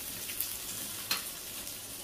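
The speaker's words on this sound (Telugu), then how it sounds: "సో ఇది కూడా వేసి మొత్తం అన్ని చక్కగా ఫ్రై అయ్యేలా ఫ్రై చేసుకుంటాను" Green and dried red chillies frying in oil for mango pickle, making a faint, even sizzling hiss with a couple of small spatula taps.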